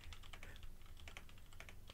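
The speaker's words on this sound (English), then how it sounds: "I hear you typing." Quick, faint computer keyboard typing heard over a remote call, a steady patter of soft key clicks with no talking.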